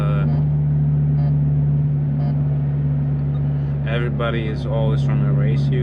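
Inside a Subaru BRZ/FRS/GT86 fitted with a custom exhaust, a steady low engine drone hums at cruise while someone talks over it, close and constant.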